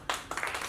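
Audience applause comes as a few quick, sparse hand claps, moderately close and brief rather than a full ovation.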